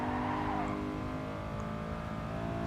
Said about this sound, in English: in a pretty powerful car, overtaking a lot of slower cars